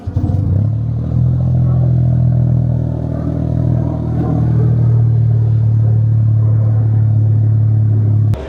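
Toyota GR Corolla with an APEXi exhaust idling and creeping off a trailer, a steady loud low exhaust rumble with slight clatter that holds throughout, no voices.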